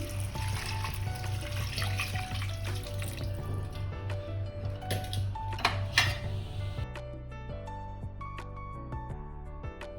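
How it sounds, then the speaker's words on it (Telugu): Water splashes steadily into a metal cooking pot of rice for several seconds, then stops, leaving quieter clinks and faint tonal sounds. "ఇప్పుడు వాటర్ వేద్దాము"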